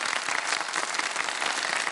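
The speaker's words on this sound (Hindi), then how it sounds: "मैं चाहूंगा हम भरपूर तालियों में इनकी हौसला अफजाई करें" Dense applause from an audience welcoming the CEO of the Pakistan Super League, a steady wash of clapping at moderate loudness throughout with no talking.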